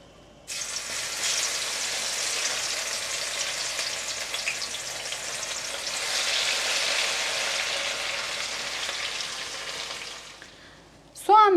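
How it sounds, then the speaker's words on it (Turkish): Onions, finely minced in a food processor, hit a pan of hot vegetable oil and fry with a steady, close sizzle that carries on evenly, ending with a brief clatter. "Rondodan geçirmiş olduğum soğanları ısınan tavaya alıyorum."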